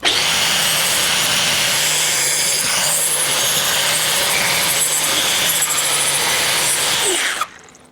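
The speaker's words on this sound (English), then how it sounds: "Gotta get a spinny high-speed sander." A spinning high-speed sander works metal parts for a shop elevator build, a loud steady whirring grind that runs continuously for about seven seconds before cutting off abruptly.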